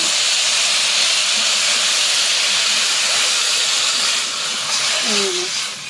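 Semolina (suji) frying in oil with water just added, giving a loud, steady broadband sizzle and hiss that carries evenly throughout, easing slightly near the end.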